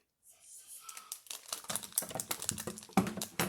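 Korean snack packet being torn open, a rapid run of crinkly plastic rustles and rips building up close and fairly quiet.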